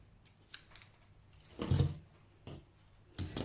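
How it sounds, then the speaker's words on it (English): Scissors snipping the yarn ends off a crocheted bunny appliqué, a few quiet, sharp close-up cuts spread across a near-silent moment. "Just give it a pull, snip your ends off."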